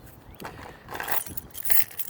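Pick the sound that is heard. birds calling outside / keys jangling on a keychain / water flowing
keys jangling on a keychain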